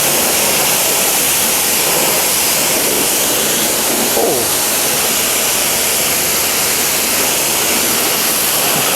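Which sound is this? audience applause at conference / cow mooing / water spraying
water spraying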